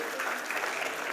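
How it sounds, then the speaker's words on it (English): A short, steady burst of audience clapping for Professor Bhuvnesh at a textile summit technical session, dense and even throughout. "I think that he needs a big clap"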